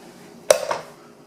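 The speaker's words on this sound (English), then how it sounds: "So I'm opening the pressure cooker." Lid of a pressure cooker holding cooked toor dal being opened, one sharp metallic clank followed by a quieter rattle, close and brief against a quiet room.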